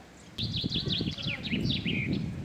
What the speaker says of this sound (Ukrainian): Така маленька одна пташечка. І так співає.